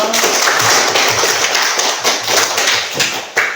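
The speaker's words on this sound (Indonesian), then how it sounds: "tepuk tangan buat kita semua" Classroom of students applauding together at the end of a lesson, a burst of many hands clapping in a dense patter, close and lively.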